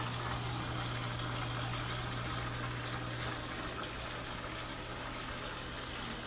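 Water pours strongly and steadily into a Samsung automatic washing machine that keeps filling during the wash, a constant close gushing hiss over a low steady pump hum, with no talking.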